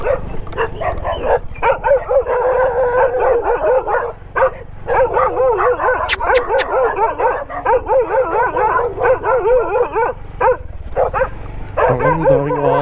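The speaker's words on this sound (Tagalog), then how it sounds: "Ang daming aso" Many dogs bark and yip in rapid overlapping bursts during a predawn Fazzio scooter ride on a road to Liw-Liwa Beach in Zambales, loud and close, with a brief whimpering and an engine rising near the end.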